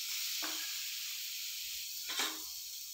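Turmeric sizzling in hot oil for soya keema, a steady, faint hiss with two brief bursts of louder sputtering.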